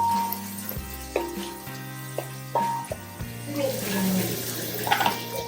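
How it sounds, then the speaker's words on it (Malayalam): Shallots and green chillies sauté in a pan for a prawn and long bean stir-fry, a steady sizzle broken by several sharp clinks and scrapes of a utensil against the pan. "ചെറിയുള്ളി ഇട്ട് ഇന്ന് പച്ചമുളക് വഴറ്റി"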